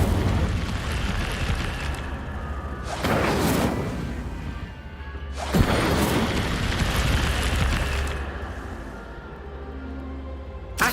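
Incendio fire spell effects in Hogwarts Legacy, heard as repeated loud whooshing bursts of flame, with two big roaring blasts over a dense, continuous rumbling game background.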